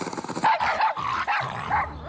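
A cartoon dog barks in a quick run of loud, close yips and bow-wows, several short bursts over about two seconds with no talk.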